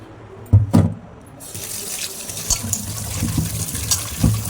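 Bitter gourd pieces are rinsed under a running tap in a sink, with a steady water stream, a few sharp splashes and clatters at the start, and soft sloshing as the pieces are swished.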